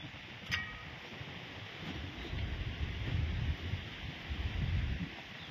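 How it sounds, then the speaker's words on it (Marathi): Strong wind blows outdoors after the rain stops, a rough rumbling gusty roar that swells and ebbs over the microphone, with a faint brief click near the start. "लय वारं सुटले"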